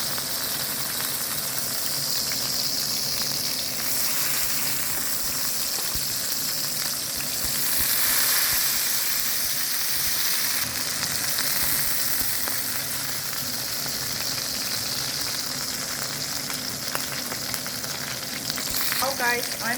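Steak frying in a pan, a steady close sizzle and crackle of hot fat that swells slightly midway and continues without talk.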